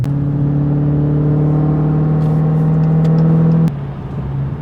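A Dodge Challenger Hellcat Widebody drives with a loud, steady, deep engine drone heard close from inside. The engine note drops off near the end as the car eases off, and no one talks.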